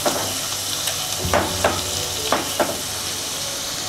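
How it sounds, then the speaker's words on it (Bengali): Masala fries in a pan with Kashmiri red chili powder added, giving a constant sizzle broken by four or five distinct scraping stirs, with no other sound around it. "এটা একটু ভাজা ভাজা হবে, এর মধ্যে আমি কালারের জন্য কাশ্মীরি রেড চিলি পাউডার দিয়ে দিচ্ছি"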